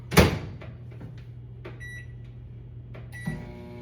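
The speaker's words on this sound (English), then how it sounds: "I'm gonna put it in the microwave" A microwave oven runs with a steady low hum while softening Parmesan cheese, with a door clunk at the start, light clicks along the way and another clunk near the end.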